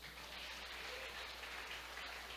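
Faint, steady applause from a church congregation, a continuous wash of many hands clapping without a break and with no voices standing out.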